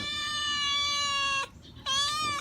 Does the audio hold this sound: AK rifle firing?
no